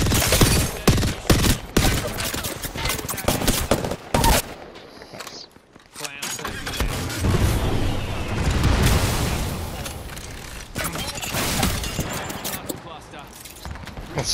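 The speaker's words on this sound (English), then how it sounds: "Oh god, three teams are shooting me." Rapid gunfire bursts and heavy booms from a battle royale video game, loud and dense at first, then a brief lull before more sustained shooting, with a player's voice talking over it.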